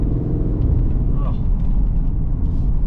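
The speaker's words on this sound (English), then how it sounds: "And those downshifts" A Mercedes ML63 AMG Performance SUV engine rumbles low and steady from inside the cabin, with a brief rising whine from a downshift midway, under a constant engine drone.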